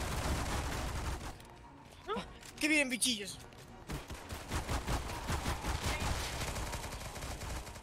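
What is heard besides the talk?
gunfire in a video game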